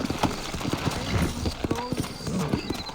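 Sturdy horses clip-clop along at a trot in a Red Dead Redemption town, hooves landing in quick uneven beats up close, with a voice talking over them.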